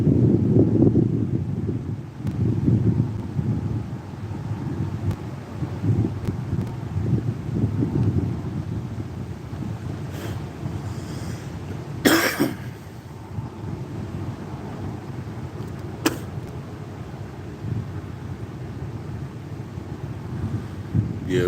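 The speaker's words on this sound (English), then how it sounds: "When I came down, that's when the wind was blowing back at me." Strong wind blowing outdoors on a disc golf course: a steady low roar and rumble of gusts buffeting the microphone, loud and continuous, with a few brief sharper thumps partway through and no voices.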